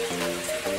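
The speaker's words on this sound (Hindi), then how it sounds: "और बहुत ज़्यादा हो रही है, पता नहीं अभी बारिश होगी कि नहीं रुकेगी, नहीं पता।" Heavy rain falls steadily on surfaces nearby during Janmashtami puja, a dense constant patter with a faint tonal hum running underneath.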